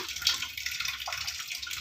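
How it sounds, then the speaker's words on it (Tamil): Boiling water is poured off a pot of cooked ragi vermicelli in a home kitchen, a steady hissing splash of draining liquid with small gurgles. "இப்படியே தண்ணியை வடிச்சிடலாம்"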